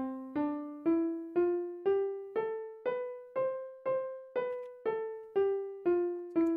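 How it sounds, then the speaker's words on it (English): A simple keyboard melody of about thirteen evenly spaced single notes, each struck cleanly and decaying before the next, rising then falling slightly in pitch, played alone and close. "I'm going to use an input melody that I played on my keyboard"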